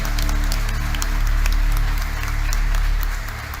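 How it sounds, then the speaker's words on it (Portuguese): A church congregation applauding during a sermon, a dense wash of many hands clapping at steady volume for a few seconds with a low hum underneath. "Uma salva de palmas para Jesus"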